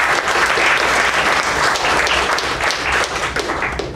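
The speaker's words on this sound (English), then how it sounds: "Give him a big round of applause." A roomful of people at the close of a Toastmasters meeting breaks into steady, dense applause that runs loud and unbroken from start to finish, with no talking over it.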